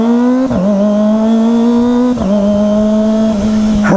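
A car engine held at steady revs during a U-turn, with a strong droning tone that dips briefly at each gear or throttle change, loud and close, no talking.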